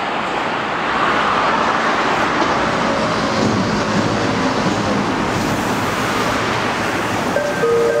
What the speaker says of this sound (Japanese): 1番線に到着の電車は梅田、難波、天王寺方面、